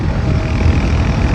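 A Royal Enfield Continental GT650 motorcycle running at speed, its engine a loud, steady, close rumble with broad wind noise and no pauses.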